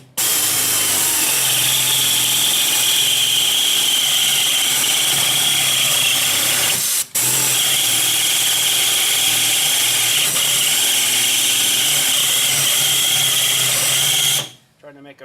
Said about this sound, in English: I have to drill both of them, I guess, believe it or not.